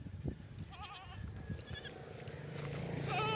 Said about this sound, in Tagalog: Ito yung mga kambing natin